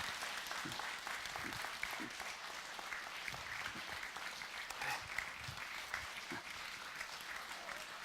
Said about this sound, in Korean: 박수 좀 치세요.